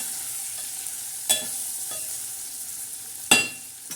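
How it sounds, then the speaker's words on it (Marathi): Spices sauté in a pan with red chili powder and turmeric, a steady soft sizzle broken by a few sharp scrapes of a spatula against the pan, heard close with no voices. "आता हे छान असं परतून घेणार आहे त्याला"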